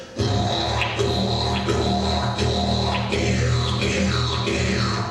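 A droning, buzzing tone made by voices vibrating their lips, imitating a didgeridoo, with rhythmic pulses and accents over a steady low hum.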